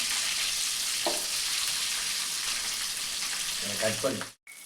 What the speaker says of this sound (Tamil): தேங்காய் எண்ணெயில் பச்சை மிளகா போட்டு வெங்காயத்தை போட்டு நல்லா வணக்கிக்குவோம்